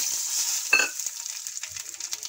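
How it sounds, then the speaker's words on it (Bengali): Whole spices crackle and sizzle in hot oil left in a kadai after fish heads were fried, a steady bright frying hiss with one sharper burst of spluttering early on and faint stirring clinks. "সেই তেলের মধ্যেই আমি ফোড়ন দিয়ে দিচ্ছি"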